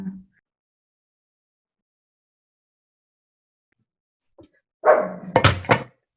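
A dog barks a few times near the end in a short burst of close, loud yaps after a long quiet stretch, during an online class call at home.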